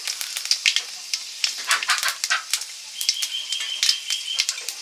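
Bay leaves and panch phoron spices sizzle and crackle in hot oil, a dense, steady frying hiss broken by sharp spitting pops, close and fairly loud with no talking.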